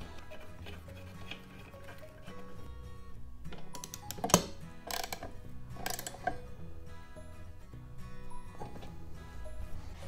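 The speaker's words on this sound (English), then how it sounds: "then I'll tighten them up with the socket wrench" A socket wrench ratchets while tightening bolts on a WEN 4214 12-inch drill press. Quiet, irregular clicking bursts come close by, with a few sharper metallic ticks in the middle.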